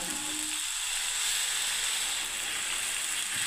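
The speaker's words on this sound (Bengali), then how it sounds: "এই ছানার জলটাই আমি বন্ধুরা ঢেলে দিচ্ছি।" Chhana whey poured into a hot pan of chhana curry sets off a loud, continuous sizzle and hiss that stays steady throughout, close and without talk.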